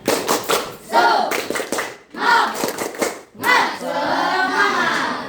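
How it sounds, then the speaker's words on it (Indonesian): Schoolchildren in a classroom doing a patterned spirit clap, bursts of group clapping in rhythmic phrases separated by short pauses, with young voices joining in. "Tepuk semangat."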